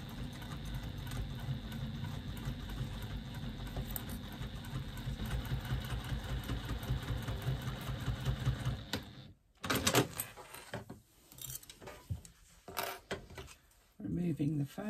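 A sewing machine runs steadily for about nine seconds, stitching a 3/8 inch seam on a bag, then stops, leaving scattered clicks and handling noises of fabric and foam being moved.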